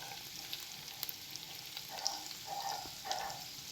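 Ground turmeric, chilli, coriander and salt frying in hot oil in a pan, a steady close sizzle with soft scraping stirs and small spits, no talking.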